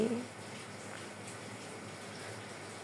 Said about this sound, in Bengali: এক মগ হরলিক্স বানাচ্ছি খাবো বলে, পানি দিয়ে দিচ্ছি